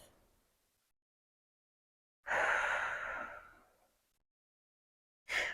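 Deep breathing during a yoga side-body stretch: one long, slow exhale fading out over a couple of seconds, with silence before it and the start of another breath at the end, close and soft.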